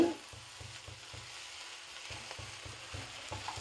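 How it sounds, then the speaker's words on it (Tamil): Eggs with coconut, chilli and chilli powder sautéing in a pan, a quiet, steady sizzle with regular stirring scrapes pulsing through it. "ரெண்டு நிமிஷம் நம்ம நல்லா வதக்கணும் இப்படி போட்டு அப்போ தான் அந்த முட்டையெல்லாம் நல்லா வதங்கும்"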